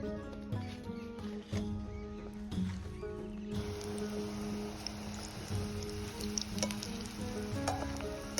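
Potato vada (batata vada) frying in hot oil, a steady close sizzle with bubbling crackle running throughout, growing brighter and denser partway through, with faint kitchen clatter.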